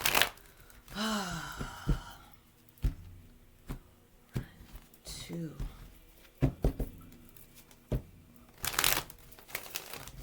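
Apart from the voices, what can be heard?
shuffling tarot cards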